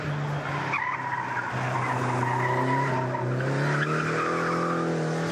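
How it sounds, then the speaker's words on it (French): A Peugeot 205 Turbo 16 four-wheel-drive rally car slides sideways through a corner: engine drone rises and falls in pitch under a continuous tire scrub, heard close and steady without talk. "Ça y est, on est déjà en glisse."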